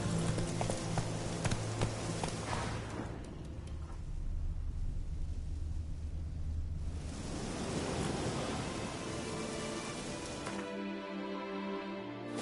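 Roach the horse trots in The Witcher 3, its hooves clip-clopping in a quick, even rhythm against a windy, surf-like outdoor ambience, pausing briefly mid-way before the hoofbeats pick up again.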